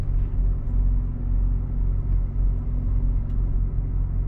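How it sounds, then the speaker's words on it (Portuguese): Truck engine idling and rumbling at low speed while being pulled over to park near a customs post at Uspallata, Mendoza, a steady close diesel drone with no talk. "Vamos encostar esse caminhão em algum lugar pra gente poder tramitar"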